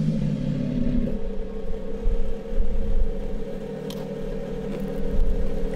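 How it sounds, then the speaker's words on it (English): A Lamborghini Revuelto's V12 engine idles steadily after starting, a loud low rumble with a brief louder burst at the start and a constant droning hum throughout. "So in the end, I just fired up the V12 and used that to charge the battery."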